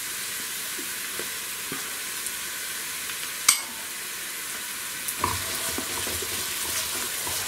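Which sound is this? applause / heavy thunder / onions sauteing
onions sauteing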